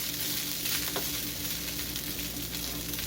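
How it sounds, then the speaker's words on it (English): Fried rice sizzles in a non-stick pan, stirred with a silicone spatula, giving a steady close hiss of frying with soft scraping movements and no voices. "kind of give it a firm kind of mush around with the spatula. I'm using a silicone spatula."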